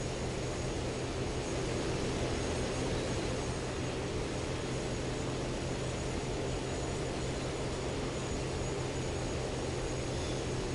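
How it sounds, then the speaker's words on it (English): Continuous aircraft engine drone from an enemy plane in War Thunder, a steady broadband roar without breaks, fairly loud and with no talking. "I thought I heard an enemy plane nearby"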